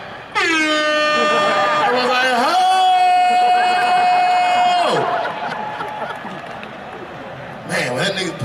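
Several long, loud air horn blasts sound over a rowdy crowd, one held steady for a couple of seconds, then cheering and shouting continue.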